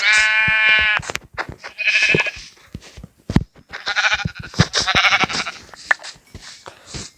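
Several Minecraft sheep bleat in quick succession, loud and close, with scattered clicks and small game sound effects around them.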